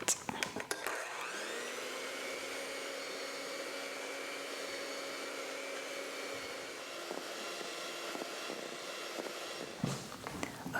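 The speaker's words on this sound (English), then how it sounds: "we want to beat the egg yolks until they're like fluffy but not so stiff as a meringue" Egg yolks for chocolate mousse are beaten with an electric mixer, a steady whirring drone running nearly the whole time, close and even, starting and stopping with brief clatters.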